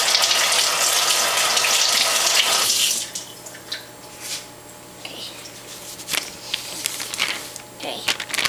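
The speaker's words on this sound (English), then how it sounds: "I'm just gonna run my hands under some hot water." Hot water runs loudly from a tap over hands at a sink while homemade ice cream is being made, a steady gush for about three seconds that then drops to faint trickles and splashes.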